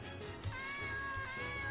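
A cat's drawn-out meow sound effect in the video game Nowhere and Forever, a single clear tonal cry over a steady background game hum, no talking.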